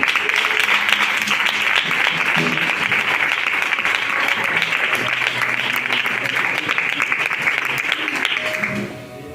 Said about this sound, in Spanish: Recibimos la palabra del Señor con ese fuerte aplauso para él.